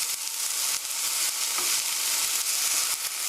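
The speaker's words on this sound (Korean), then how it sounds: "양파를 2미닛 2분 정도 볶아주세요." Onions stir-frying in a pan for a mushroom and egg soup, a steady broadband sizzle with occasional scrapes and stirring clatter, close and continuous with no talking.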